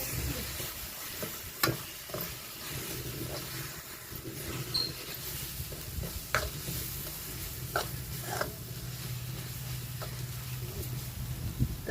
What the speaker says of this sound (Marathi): मी ते टाकून देते हे पण चांगलं तळून घेऊ